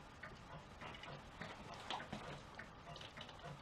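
Faint, steady clock ticking in a horror video game, a quiet regular tick-tock against soft background hiss, heard alone without talking.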